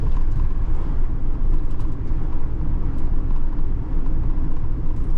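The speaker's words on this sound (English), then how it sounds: "There's a car coming the other way" Heard from inside a moving Tesco delivery van, an oncoming car passes the other way on a narrow road, a brief swell over the van's steady loud engine and road rumble.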